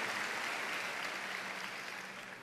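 A congregation at a church service gives God a loud round of applause, a dense, steady wash of clapping that fills the whole stretch and tapers slightly at the end, with no talking over it.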